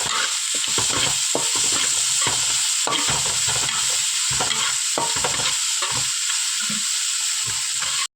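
Chopped tomato fries in a pan for egg noodles with a loud, steady sizzle throughout, punctuated by repeated scraping and knocking stirs at an uneven rhythm, with no talking.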